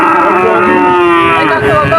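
A cow bellows a long, loud, close moo at a rural cattle market in Shahpur, Dumuria, Khulna, with a faint crowd murmur beneath it.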